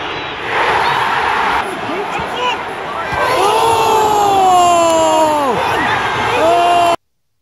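A large away crowd at a Sunderland versus Luton Town football match erupts in loud, sustained cheering and whistling after a goal, a roaring mass of voices with shouts rising above, close and overwhelming before cutting off abruptly.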